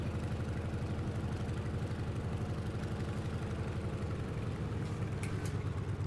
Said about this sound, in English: Oh, we have the sound like in Antonov, yeah.